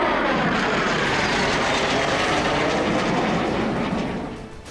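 A Rafale fighter jet's engine roars loud and steady, a broad thunderous rush that starts to fade at the end.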